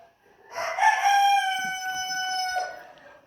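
A rooster crows once, nearby and loud, its long cock-a-doodle-doo rising and holding before trailing off, with no voices around it.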